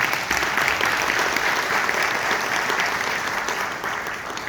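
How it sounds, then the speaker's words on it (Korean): An audience at a Gyeongbuk education policy forum in a hotel claps together in a dense, loud, steady round of applause that lasts several seconds with no talking. "박수 한번 부탁드리겠습니다."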